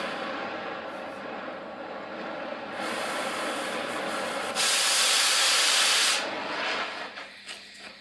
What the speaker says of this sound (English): You've got to heat it up till it starts melting, and then you can blow it away with the oxygen blow handle